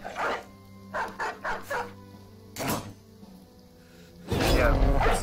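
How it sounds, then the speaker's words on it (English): Dog barks from the video game Battle Brothers ring out in a run of short bursts amid combat sounds, followed by a louder, harsher clash near the end; a voice talks faintly underneath. "Might as well release the dog."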